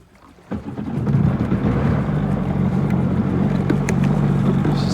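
A steady low engine rumble from a GTX DI watercraft starts abruptly and holds at an even idle, loud and close, with a faint splashy texture over it.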